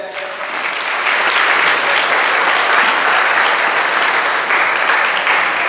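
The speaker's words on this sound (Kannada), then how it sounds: "ಆದರೆ ಇಬ್ಬರಿಗೂ ಜೋರಾಗಿ ಒಂಥರ ಚಪ್ಪಾಳೆ." A training-session audience gives two participants loud, dense applause that swells after a brief start and holds steady for several seconds, with no talk over it.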